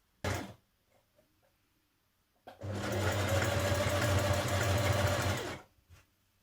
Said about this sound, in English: So I'm going to do a double fold and machine stitch mine with a zigzag stitch today.